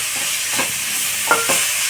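Tomato and bitter gourd curry sizzling in a pan, a soft steady hiss with a few faint stirring clicks.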